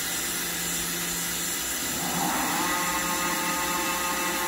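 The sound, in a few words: Mazak FH-6000 CNC machining center spindle running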